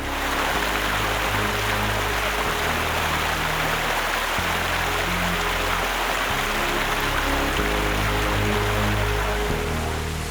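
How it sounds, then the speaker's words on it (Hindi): A stream's water rushes steadily and loudly in a continuous broadband wash, with a faint low musical tone running underneath and no voices. "पानी का शोर इतना मधुर जैसे कोई जल तरंग।"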